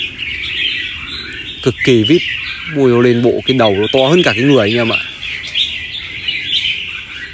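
A caged red-whiskered bulbul sings a run of loud, close, bright warbling phrases in bursts over a few seconds, while someone talks over and between the song.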